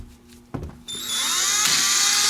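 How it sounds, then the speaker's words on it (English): A Teccpo 12-volt brushed four-pole cordless drill in direct drill mode: a couple of clicks, then the motor spins up to a steady, loud, high-pitched whine close by. "It's just basically on direct drill now."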